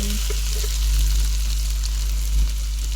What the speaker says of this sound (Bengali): আলুটা দিয়েও এখন আমি একটু সময় নিয়ে ভেজে নিচ্ছি।